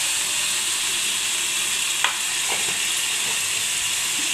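A paneer spice paste frying in oil hisses in a loud, dense, steady sizzle, with a few light spatula knocks as it is stirred midway.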